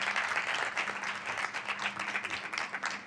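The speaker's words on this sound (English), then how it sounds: "let's have a round of applause" Audience applause fills a town council meeting as the water industry team is honored, a steady, dense clapping sustained from start to finish with no talk over it.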